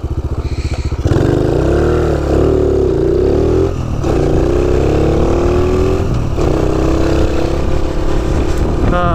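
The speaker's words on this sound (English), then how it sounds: "Do a little burnout on the grass." A Honda C90 motorcycle engine revs hard and holds a steady high drone during a burnout on grass. The engine noise is loud and close throughout, with pitch swells as the throttle rises and falls.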